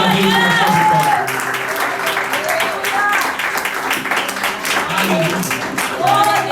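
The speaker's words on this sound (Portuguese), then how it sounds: "Aplauda a Deus com a sua vitória." Church congregation applauding during a Sunday family service, steady dense clapping mixed with shouted voices and singing-like calls throughout, loud and close.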